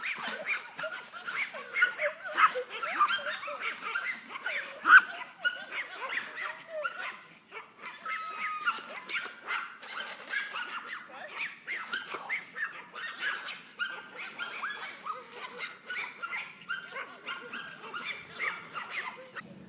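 A dog barks and yips repeatedly in quick, uneven bursts, fairly faint and somewhat distant, carrying on without pause for the whole stretch.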